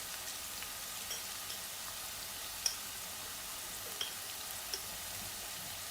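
Ginger and garlic fry gently in hot oil with turmeric, a soft continuous sizzle with a few faint ticks and spits, quiet and close, with no one speaking.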